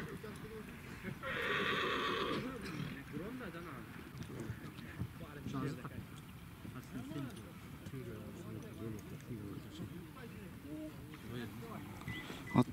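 Horses at a kok-boru team training match in Osh region, with a loud whinny early on and hoof movement beneath ongoing speech and crowd noise.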